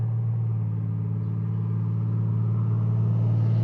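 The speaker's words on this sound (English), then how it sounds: "Noisy truck." A loud, noisy truck rumbles past close by on a farm road, a steady low engine drone that holds strong and even throughout with no voices over it.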